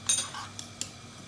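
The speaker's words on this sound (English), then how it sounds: "This is how I cut my onions." Onions being cut in a home kitchen while making butternut squash and fenugreek curry, heard as a quick cluster of light metallic clinks and taps followed by two sharp single clicks, close and fairly quiet.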